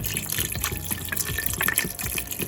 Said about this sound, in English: now all I'm going to do is just add some vegetable stock